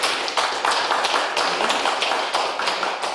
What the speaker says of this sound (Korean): 장동환 박사님을 큰 박수로 모시겠습니다.